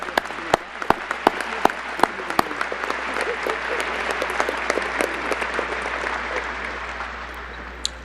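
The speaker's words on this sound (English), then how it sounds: "That deserves another round of applause." Applause at a retirement press conference for a basketball coach, starting with a few loud, distinct claps that quickly swell into steady, broad clapping from the room and carry on for several seconds.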